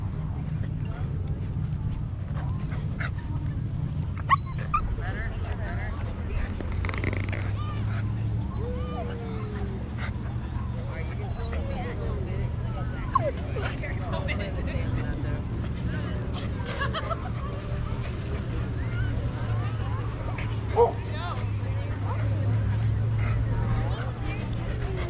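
Small French bulldogs at a Florida dog beach bark, yip and whimper at intervals amid a steady babble of people talking, with low background rumble throughout.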